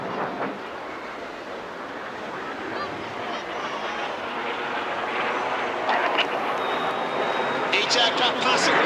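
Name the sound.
display aircraft passing overhead at an airshow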